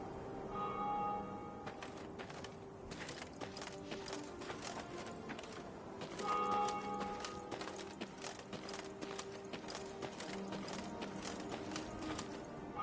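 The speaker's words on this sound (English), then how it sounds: "Travelling the high road, they heard the bells of a temple to Mother Melitele, situated at some distance." Temple bells in the fantasy game Thronebreaker: The Witcher Tales ring from some distance, with steady clip-clopping hooves on a high road and a continuous ambient bed, moderately loud and layered.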